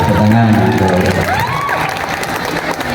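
Audience at a pesantren pageant grand final applauding and cheering a contestant, a short burst of clapping with whoops and shouts, loud and close, with a voice over the start.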